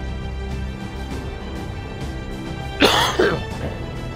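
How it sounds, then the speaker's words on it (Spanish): A person with an illness coughs twice in quick succession, close and loud, over a steady background of video game sound. "Pinche tos no me deja."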